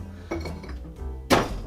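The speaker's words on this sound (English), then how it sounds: "So we're going to bang some ice in there straight away." Ice cubes are dropped into an empty glass coffee jar used as a cocktail shaker, giving a few clinking thunks followed by a louder, sharper clatter of ice hitting the glass.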